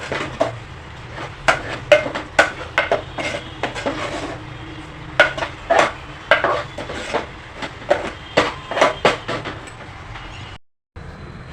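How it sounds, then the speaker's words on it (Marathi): Puran filling of jaggery being stirred in a pot over a low flame, a series of repeated metallic scrapes and clinks of the spoon against the pot, close and fairly loud, with a brief silence near the end. "गॅस स्लो करा दोन ते तीन मिनटं घोटा"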